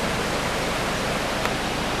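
Broad, steady rush of the river at Rio Perlas in Cartago, Costa Rica, flowing below wooden cabanas, an even wash of water noise with no voices over it.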